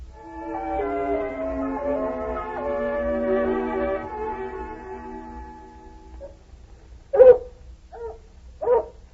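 A hound puppy makes a long run of whining, whimpering yips that taper off, then gives three short, sharp barks close by with no other sound.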